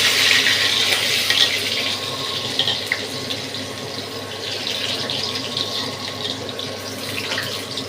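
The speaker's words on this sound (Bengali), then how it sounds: "তেল গরম হয়ে গেছে, পেঁয়াজ দিয়ে দিলাম।" Onions dropped into hot mustard oil give a steady, loud broadband sizzle that hisses on without pause for about eight seconds.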